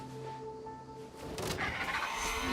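A chicken-like creature in the Sumeru desert of the video game Genshin Impact gives a tonal, wavering cry that shifts into a louder, noisy rustling burst, with steady game ambience underneath.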